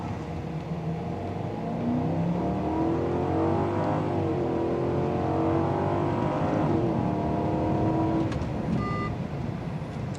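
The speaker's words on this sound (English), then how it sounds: "Now that V8 engine does make some noise when you're pulling hard." A 2005 Ford Thunderbird's V8 engine revs and accelerates hard, its deep roar climbing in pitch through several gear pulls before easing off near the end.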